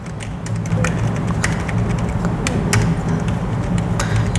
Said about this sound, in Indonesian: kita bakal tes sama-sama gimana enaknya ini buat ngetik